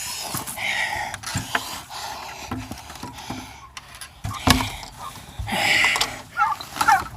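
Chickens cluck and squawk close by in a busy, irregular run of short calls, mixed with scuffling and rustling handling noises.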